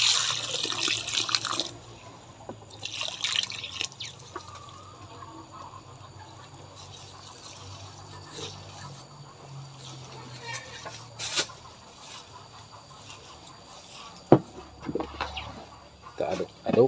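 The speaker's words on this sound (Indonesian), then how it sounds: "Kita aduk-aduk seperti ini supaya dia merata ya untuk air larutan fermentasinya" Liquid sloshes and swirls as a fermentation solution of coconut pulp mixed with molasses and probiotic drink is stirred by hand, with intermittent splashes and a person talking over it.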